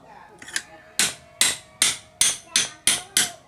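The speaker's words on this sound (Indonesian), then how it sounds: "Kita buka pakai pahat aja." A hammer drives a chisel against the connecting rod of a Honda Vario 150 scooter, ringing out eight sharp metallic strikes at a steady pace, close and loud, with a faint hum between blows.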